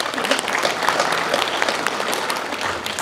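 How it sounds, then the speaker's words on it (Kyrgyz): Supporters at a Butun Kyrgyzstan party rally in Naryn applaud together, a thick, continuous patter of clapping with a faint crowd murmur beneath it. "Сиздерге кол чабуулар болсун."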